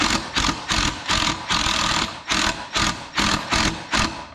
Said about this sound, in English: Now it's getting to the end of the pre-drill and it's going to start drilling its own.